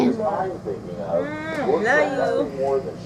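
A feral cat meows several times in close, drawn-out rising and falling cries, while people talk nearby.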